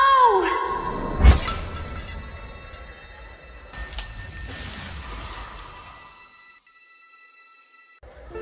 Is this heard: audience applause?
no